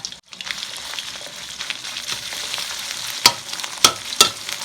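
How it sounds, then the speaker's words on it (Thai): Whole fish stir-frying with red curry paste in a hot pan, a loud steady sizzle with a few sharp scraping clacks of a utensil toward the end, no voices. "เดี๋ยวพอนิ่งแล้วไปผัดกันเลยครับผม"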